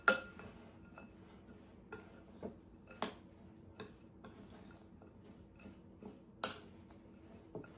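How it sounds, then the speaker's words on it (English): A utensil stirs a granola mixture in a bowl, giving sparse, light clinks and scrapes with a few sharper taps against the bowl, fairly close and quiet, with no talking. "once you get that all stirred in"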